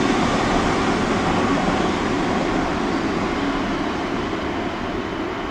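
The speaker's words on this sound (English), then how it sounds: "Don't mind the train noise" Loud, steady rumble of a train passing close by, a dense continuous roar that fades only slightly over a few seconds, with no voices over it.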